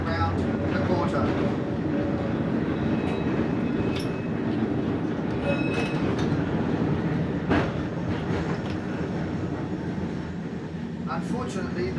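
Auckland Dockline heritage tram rolling along its street tramway: a steady, continuous rumble of wheels and motor throughout, with faint rail clicks and a voice speaking over it.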